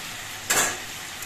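Water poured into Malabar spinach frying in oil, setting off a sudden loud hiss that fades over half a second into a quieter sizzle, heard alone.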